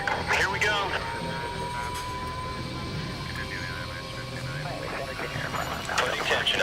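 A military aircraft taking off in the video game Battlefield gives a steady, loud broadband engine roar that holds throughout, with a voice talking over it.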